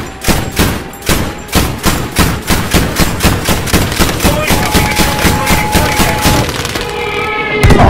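Rapid bursts of anti-aircraft gunfire in the Battlefield 5 game, loud evenly spaced shots firing in a fast rhythm that ends in a sharp final blast.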